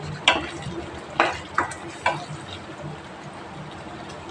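Jackfruit curry masala stuffing frying in oil in a pan, a low steady sizzle with a few sharp utensil clinks and stirring scrapes spaced across the first two seconds.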